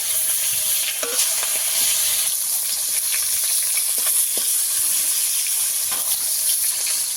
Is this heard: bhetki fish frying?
yes